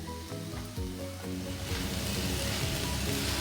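Beetroot sautéing in a pan for chutney gives a steady, dense sizzle that swells louder midway, with faint scraping of stirring and a low background hum throughout.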